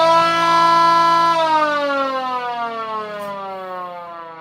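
Rotating siren running on a replaced condenser motor below full speed, a loud, steady wail whose pitch slowly sinks as it winds down, alone and close.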